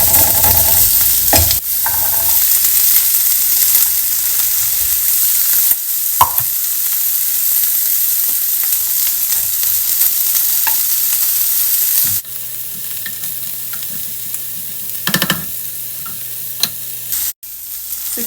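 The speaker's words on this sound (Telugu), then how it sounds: "సో దీంట్లోకి మనం ఆనియన్స్ కూడా లైట్గా ఫ్రై చేసుకోవాలి." Paneer and onions fry and get stirred in a pan, a steady close sizzle with a spoon scraping and clinking now and then, continuing alone throughout.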